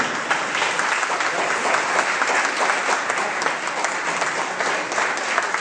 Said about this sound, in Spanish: un fuerte aplauso para nuestro hermano Edgar